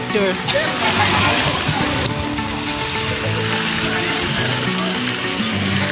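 Water waves sloshing and splashing in a swimming pool at a farm resort, a steady loud wash of churning water with people talking over it.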